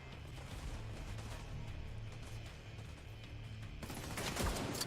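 Distant bursts of automatic gunfire from The Division 2 crackle faintly under a steady game background, growing into a sharper crash near the end.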